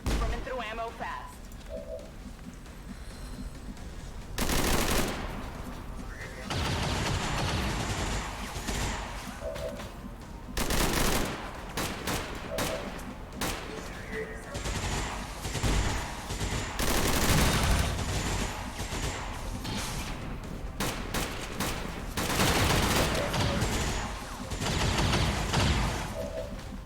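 Shots ring out in an XCOM 2 tactical battle, where loud bursts of gunfire and heavy impacts come again and again in clusters over a steady background.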